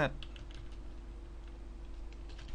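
Soft, fast keystrokes on a computer keyboard while Java code is being entered, a light run of clicks over a steady low hum, close and fairly quiet with no talking.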